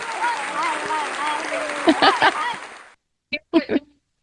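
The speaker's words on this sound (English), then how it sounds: "Please give pause and applause to Vicki Verzi" An audience applauds to welcome a guest from an animal rescue on a talk show, a short burst of clapping and cheering that ends abruptly, followed by a few brief spoken words.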